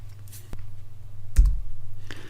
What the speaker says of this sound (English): I'm going to press the L key on the keyboard